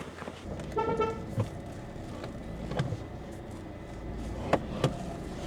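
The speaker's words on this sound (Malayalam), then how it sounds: "ഇറങ്ങുമ്പോൾ ഹോൺ അടിച്ച് ഇറങ്ങിയില്ലെങ്കിൽ പണി പാളും" A car horn sounds as the car pulls out of a blind spot while on a food delivery run. One longer toot comes early, then two brief sharp honks near the end, over a low idling engine.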